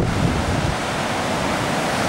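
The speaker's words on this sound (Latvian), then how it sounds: "Mums aiz muguras ir Tasmānijas jūra, kas ir savienota ar Kluso okeānu." Tasman Sea waves washing onto a shore with a steady wind blowing across the microphone, a continuous broadband roar of surf and gusts with no voices.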